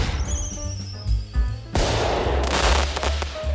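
A synthetic fireworks effect in day-trading software starts with a falling whistle, then a loud crackling, popping burst that fills the last couple of seconds.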